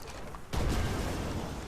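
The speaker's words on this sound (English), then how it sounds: "So he just exploded a tiny little bit." A burst from the robot villain Metallo blowing up in the Superman Returns video game, a sudden dull boom that swells into a sustained noisy rumble after a brief quiet start, loud and close.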